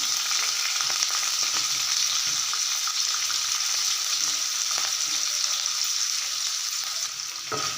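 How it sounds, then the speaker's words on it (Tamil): Ridge gourd peel sautéing in hot groundnut oil, a steady, close, loud sizzle with faint stirring scrapes running throughout. "இப்போ இந்த தோலை இதில் நல்லா போட்டு வதக்கிக்குவோம்"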